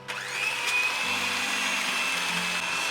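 An electric mixer whirs steadily as sugar and egg are whisked together, a continuous motor whine with shifting tone throughout and no voices.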